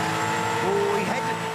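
A Repco Supercar race car laps the Adelaide 500 street circuit during a top-ten shootout on brand-new tyres, its engine note rising and dipping over a short, steady, moderately loud pass, with commentators talking over it.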